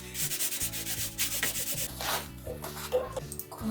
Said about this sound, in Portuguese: Aí aqui eu vou alisar com a meia para ele ficar bem grudadinho na cola.